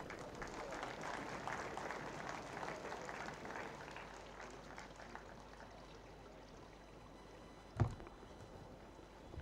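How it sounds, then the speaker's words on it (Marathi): An audience at a book launch applauds at a public event, a broad wash of clapping that is strongest at first, thins and fades, and ends with one sharp knock. "पुन्हा एकदा जोरदार टाळ्या आपल्या सगळ्यांकडून होऊ दे."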